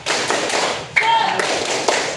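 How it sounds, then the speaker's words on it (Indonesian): A group performs a rhythmic spirit clap, tepuk semangat, in a classroom setting: sharp bursts of hand claps in a patterned beat, loud and close, with a few distinct accented claps standing out. "Kita akan tepuk semangat"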